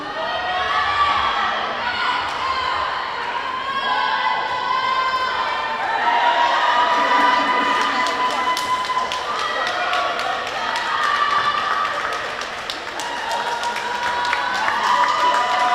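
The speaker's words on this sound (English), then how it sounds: "the crowd helps cheer her on to finish up" Spectators at a girls' varsity swim meet in an indoor pool cheer and shout for a swimmer finishing her race, loud sustained crowd noise with high voices and scattered claps and thumps.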